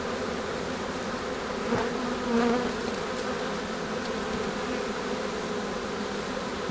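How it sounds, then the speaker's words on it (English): Honey bees in an opened hive during a late first spring inspection give off a dense, steady buzzing hum. It runs unbroken at a moderate level throughout, with no talk. "Got some bees underneath."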